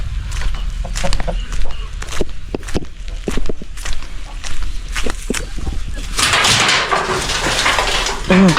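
Chickens cluck in short, sharp bursts at close range, with footsteps and people talking, followed by a louder rustling wash of noise near the end.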